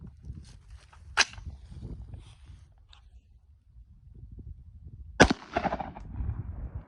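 A .223 rifle round fired outdoors into a backstop of railroad ties gives one sharp, loud report, preceded by a fainter earlier crack and followed by a brief rumbling decay over low background noise.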